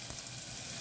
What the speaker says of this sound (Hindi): अब इसे ना 1-2 मिनट के लिए अच्छे से भून लेते हैं।